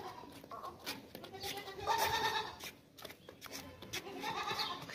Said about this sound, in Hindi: दूध वाली बकरी है